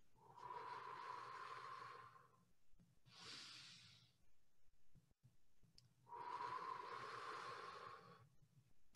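A group breathing exercise in an introductory session: a long, slow inhale through the nose, a short exhale, then another deep breath, soft and close with quiet pauses between.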